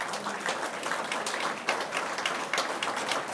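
Steady, fairly soft applause from a crowd at a metropolitan New Year's wishes ceremony, continuous and even with a few louder swells.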